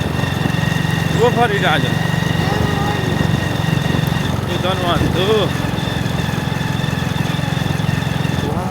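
Motorcycle engine hums steadily while riding along an unpaved village road, loud and continuous throughout, with people talking over it.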